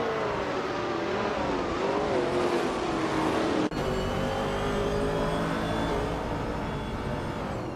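Vintage Trans Am class race cars, including a 1968 Dodge Dart and a Chevrolet Camaro, roar loudly around a track with sustained high engine revving, shifting pitch and a brief gear-change dip midway.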